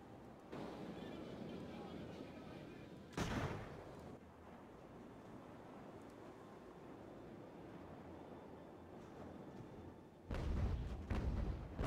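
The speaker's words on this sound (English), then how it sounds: "that's twice, two volleys on me" Sailing warships in the Ultimate Admiral Age of Sail naval game fire cannon volleys, two heavy booming bursts several seconds apart against a quiet, rumbling sea background, with faint talk in between.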